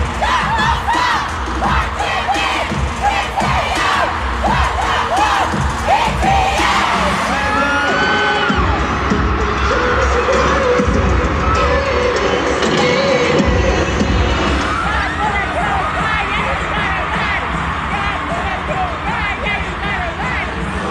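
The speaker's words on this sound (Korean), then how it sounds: "관중들이 미쳤어. 저 함성 좀 들어봐." A dense concert crowd at a show in Las Vegas roars throughout, with loud sustained cheering, whoops and shrill screams layered over a steady low rumble, staying intense from start to finish.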